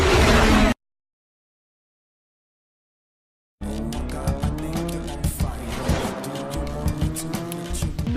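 A Veilside Fortune wide-body car on wide 305mm rear tires drifts, with a loud engine roar and repeated sharp tire squeals after a brief burst and several seconds of silence.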